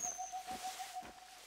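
A small bird-call whistle in a hunting video game gives a steady, slightly broken whistling tone for about a second and a half, faint and alone.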